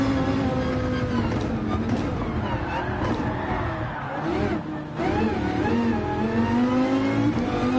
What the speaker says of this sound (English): this is a very, very cool car. It sounds great. V10 engine on this.